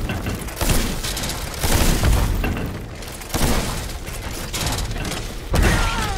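Enemy gunfire aimed at the player in the Steelrising game, heavy booming shots and impacts arriving in several separate bursts a second or two apart, loud and close with mechanical clatter between.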